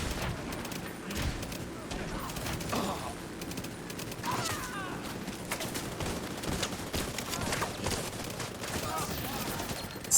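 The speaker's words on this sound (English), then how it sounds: "Striker RPK hits pretty nice in the mark" Automatic gunfire from a Striker RPK machine gun in a shooter video game, dense bursts running steadily throughout under continuous game noise.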